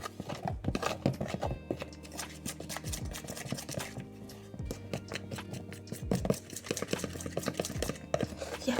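A whisk or spoon mixes crêpe batter with milk in a bowl, making irregular scraping and tapping strokes at a moderate level for several seconds, with brief pauses and no voice.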